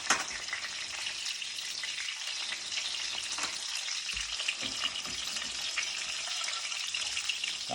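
Oil sizzles and crackles steadily as chicken deep fries, a constant hissing texture with small pops, fairly close and without talk.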